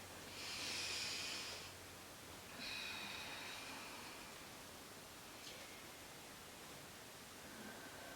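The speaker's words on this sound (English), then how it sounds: "Letting the breath be really slow, really steady." Slow, steady breaths during a vinyasa yoga flow: a couple of soft, airy inhales and exhales close to the microphone, followed by quiet hiss.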